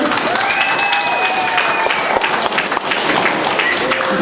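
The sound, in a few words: audience applause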